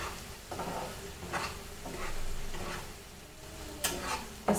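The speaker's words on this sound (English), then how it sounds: "Just fry this masala very nicely before adding the fish to this." Mustard masala sizzles and is stirred in a pan for a village-style Bihari rawas fish fry, soft frying hiss broken by several scraping stirs and light clinks, fairly quiet and close.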